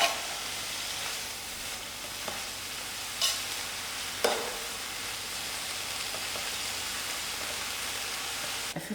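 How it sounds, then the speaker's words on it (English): Pumpkin herbs braising in a covered pot, a soft steady hiss of simmering and sizzling, quiet and close, broken by a few faint clinks, no one talking. "allow it to braise for 15 minutes"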